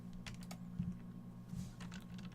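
Keys clatter on a computer keyboard while working in Unity, a few quick, faint clicks in a quiet room with no voices.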